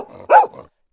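A resting guide dog gives a single short bark, close and loud, preceded and followed by brief low growly grumbles, then silence.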